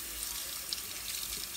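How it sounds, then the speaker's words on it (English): A tap runs to rinse something off in a sink, giving a steady nearby splash of flowing water with no voices over it. "The water's on."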